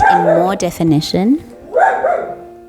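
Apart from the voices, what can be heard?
dog barking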